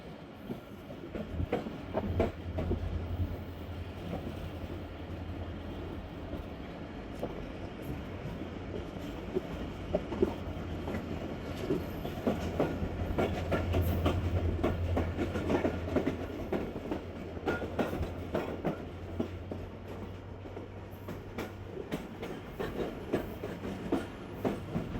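The Rehman AC Standard passenger train running on rails between Rohri and Hyderabad, heard from inside with a steady low rumble and a continuous clickety-clack of wheels, moderately quiet and unbroken, with no talk.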